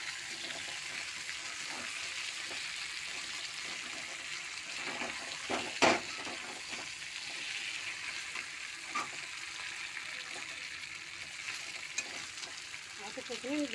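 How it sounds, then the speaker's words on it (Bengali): Chicken, potatoes and spices sauté in a pan for a red chicken curry, giving a steady close sizzle and hiss throughout, with a few brief stirring clatters partway through. "চিকেন আলু মশলা সবসময় কষিয়েছি, এখন কিছুক্ষণ জন্য কষাবো।"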